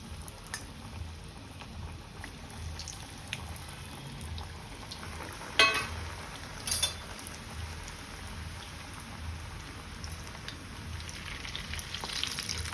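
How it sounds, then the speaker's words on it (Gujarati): Coated paneer-cheese chillies fry in hot oil with a steady, close crackling sizzle that runs throughout, broken by a couple of brief louder pops near the middle. "પહેલાં આપણે ફૂલ તેલ તળવા તેલની આંચ રાખવાની છે અને આપણે ફ્રાય કરી લેવાનું છે"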